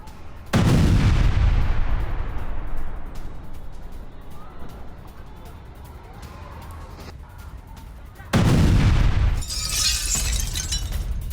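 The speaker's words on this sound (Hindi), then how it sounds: "आईडीएफ ने यहां 2 बार बमबारी को अंजाम दिया और हिजबुल्लाह के ठिकानों पर बारूदी प्रहार की ये एक और तस्वीर अब आपके सामने है।" Israeli air strikes hit Hezbollah positions in Lebanon: two loud, close blasts several seconds apart, each a heavy boom trailing into a long rumbling decay, with faint voices between.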